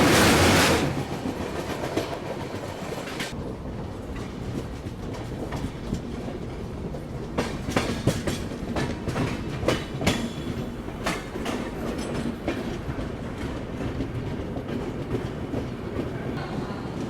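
Vivek Express passenger train rolling along rails near Cuttack, Odisha, with steady close rumble and repeated clickety-clack wheel beats over joints, continuous throughout without talk.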